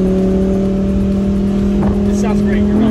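The V10 engine of a 2020 Audi R8 Performance Spyder hums with a loud, steady low drone and a slight rise in revs near the end, heard from the cabin with voices faintly present.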